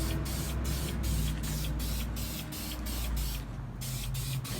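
VHT Nightshades tint sprayed from an aerosol can onto a car tail light, a close, steady hiss broken by short rhythmic pauses between passes.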